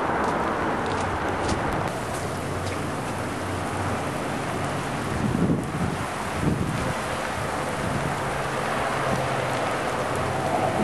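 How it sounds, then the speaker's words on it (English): Sleet and rain fall steadily through a windy ice storm, pattering as a dense wash on frozen ground and trees; wind buffets the microphone throughout, with a couple of louder gusts near the middle. "Hear the sleet"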